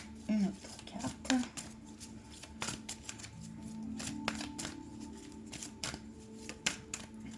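Oracle cards are shuffled for a reading, giving quick papery riffles and soft taps in irregular bursts close by, with a low voice murmuring now and then.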